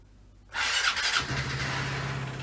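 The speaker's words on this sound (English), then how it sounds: "I'm going to try and jump start my Vespa" A Vespa scooter engine catches after a jump start: a sudden loud burst of engine noise that settles into a steady, close idle with a low continuous hum, alone without talk.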